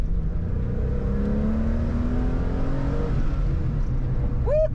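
A Porsche 911 engine revs up to around 5,000 RPM from inside the car, a loud, sustained mechanical roar with rising engine tones that climb steadily before a final quick sweep.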